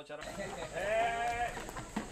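Goats on a farm in Rumah Peligong, Saratok, Sarawak, with one goat giving a single drawn-out wavering bleat, loud and near, under a voice speaking over it.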